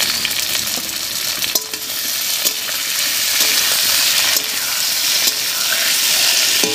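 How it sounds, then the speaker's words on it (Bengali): Papaya and potato pieces frying in a pan as chopped tomatoes go in, a loud continuous sizzle broken by several spatula stirs and scrapes, with no voices. "পেঁপে আর আলু দিয়ে একটু ভাজা ভাজা করে নিয়েছি, এবার এর মধ্যে দেব কেটে রাখা দুটো টমেটো"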